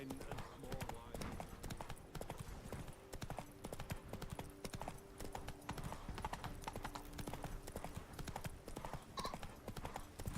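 In The Witcher 3, a horse gallops with rapid, rhythmic hoofbeats and an occasional whinny, heard steadily throughout under a person talking.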